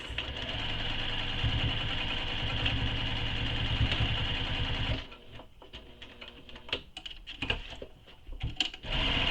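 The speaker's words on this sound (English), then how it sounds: "And now I'm going to sew that X." A sewing machine runs steadily for about five seconds while stitching an X onto a quiver sling, then stops and gives way to scattered handling clicks and rustles.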